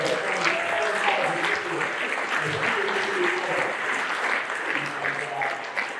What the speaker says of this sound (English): So, round of applause for all you guys out there